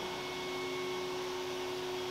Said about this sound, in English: They slide into the sealed-off CNC machine and are cut with router bits.